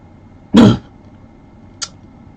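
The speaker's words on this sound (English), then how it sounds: "Just to clear my throat properly." Someone clears their throat once, a short harsh rasp, followed a moment later by a faint brief noise in the quiet.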